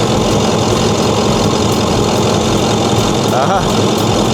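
A 6.4-litre diesel truck engine idles steadily throughout, a dense continuous rumble with a slight knocking texture, close and loud, during a blow-by check.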